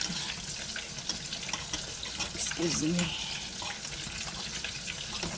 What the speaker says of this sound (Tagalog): lagyan nyo na siya ng tubig muna